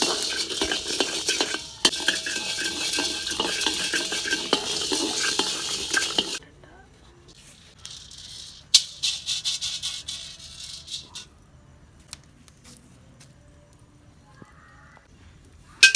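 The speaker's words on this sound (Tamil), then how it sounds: "ஒரு 100 கிராம் வந்து மிளகை வந்து சேர்த்து நல்லா வறுத்துக்கலாம்" Black peppercorns, about 100 g, dry-roasting in a pan for homemade Jaffna curry powder, giving a busy rattling and scraping of stirring for six seconds, then quieter, sparse clicks and shuffles.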